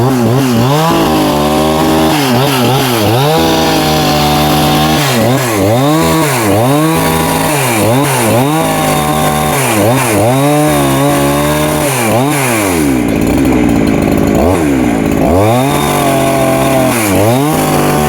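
A chainsaw cuts into a jackfruit tree, loud and close, its engine revving up and bogging down in repeated rising and falling surges as the chain bites the wood, with a brief throttle drop near the end.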